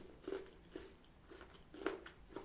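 Several close, soft crunches come from someone chewing a Ritter Sport white chocolate bar with crunchy cinnamon crisp pieces, in an uneven rhythm of bites in a quiet room.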